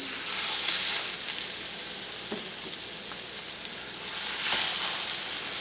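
Cajun-style stuffed chicken breasts fry in melted butter in a pan, giving a continuous close sizzle that swells near the end, with a few small pops and no speech.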